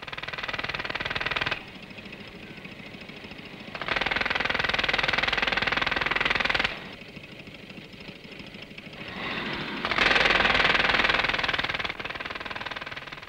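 An air compressor driving two medium duty road drills for roadwork, a loud, rapid mechanical hammering that surges and drops in alternating stretches as the drills start and stop.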